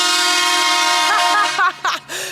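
Car horns honk at a festive send-off in Tytsjerk, a long steady tone sounding loud and close, then shorter toots and a falling honk near the end.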